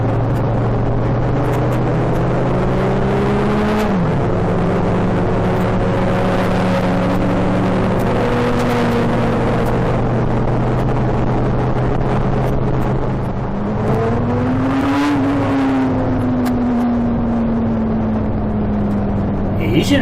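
Many motorcycles ride past on a club ride-out. Several engines drone steadily, with pitch rising and falling as bikes accelerate and pass nearby, while someone talks over them.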